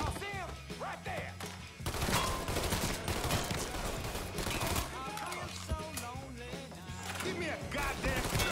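Gunfire from a firing squad in the video game Mafia 3, a dense rattle of shots rolling over several seconds with voices speaking over it.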